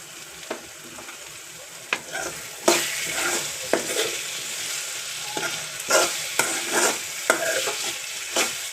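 Chitranna being stirred in a pan with fresh coriander leaves, a spoon scraping and turning the rice in repeated sweeps with sharp clinks against the pan and a faint sizzle underneath, close and fairly loud.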